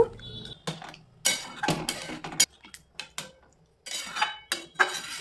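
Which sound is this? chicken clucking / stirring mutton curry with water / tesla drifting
stirring mutton curry with water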